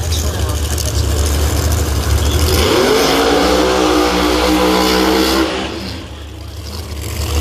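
Pro Mod drag race cars roar at full throttle down the strip, a loud sustained engine blast with a rising pitch sweep midway, then fading slightly as the cars pass.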